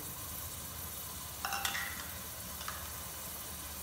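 Ginger and garlic paste sizzles steadily in a hot pan alongside onions, a constant frying hiss broken by a couple of brief metallic clinks of stirring.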